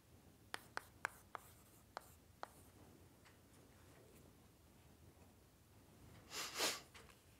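During a doctoral lecture on numerical methods for PDEs, a few sharp taps and clicks of writing on a board come first, then a quiet stretch and a louder rubbing stroke near the end, in a quiet room with no speech.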